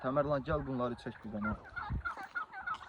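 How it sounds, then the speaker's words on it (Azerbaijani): Turkeys gobble by a river where they were brought to peck gravel, a few hundred metres from their farm. Loud, honking calls come in bursts, close by, with someone talking over them. "Bugün hinduşkaları biz gətirmişik çaya, çünki çınqıl yesinlər deyə."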